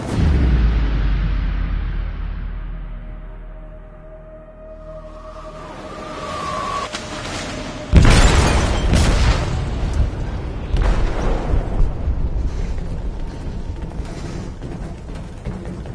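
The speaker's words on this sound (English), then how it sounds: "They detonated an explosive in the hold." A deep explosion in a ship's hold in Detroit: Become Human, with a low boom that fades into a tonal ringing and hum, then a second loud blast followed by rumbling, crashing debris and a long, rough aftermath.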